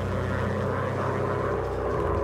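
A WW1 propeller fighter plane in a VR flight combat game drones with a steady, dense engine hum that stays constant and fairly loud throughout, with no talk over it.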